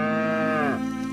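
A single drawn-out cow moo with strong harmonic tone, falling in pitch near its end, loud and close with nothing else around it.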